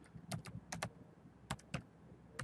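Keys clack on a computer keyboard in short, close bursts of several quick strokes with small pauses between them, as a web address is typed.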